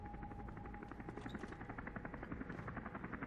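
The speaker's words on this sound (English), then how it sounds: "I hear a chopper." Helicopter in the Deus Ex video game, a rapid rhythmic rotor chop pulsing steadily and moderately close, heard alone without talk.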